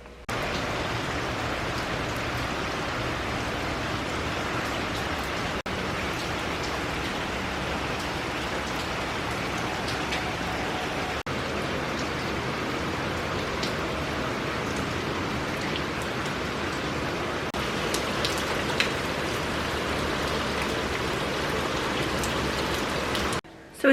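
Steady heavy rain falls throughout a storm at a home, a dense continuous hiss of drops on surfaces lasting the whole stretch with no break.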